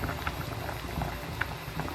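A pot of sinigang sa bayabas bubbles at a steady low boil, soft continuous burbling and popping up close with no other sounds.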